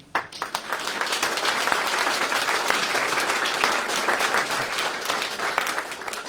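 A crowd applauds volunteers at a town hall New Year's wishes ceremony, dense sustained clapping rising after a few scattered first claps and holding steady throughout.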